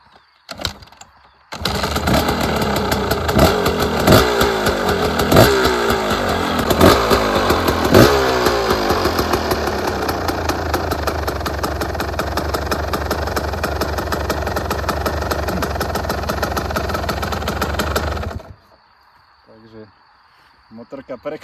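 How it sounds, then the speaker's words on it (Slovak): A motorcycle engine that was just reassembled starts and runs for about seventeen seconds: loud, close, rapid popping revs at first, then a steady buzzing idle until it cuts off abruptly into near silence with a brief voice afterward. "Motorka prekvapivo štartuje po tom, čo som ju poskladal."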